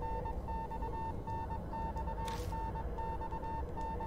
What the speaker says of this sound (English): Beeping comes gradually louder.